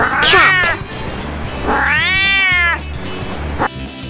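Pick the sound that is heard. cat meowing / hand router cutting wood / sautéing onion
cat meowing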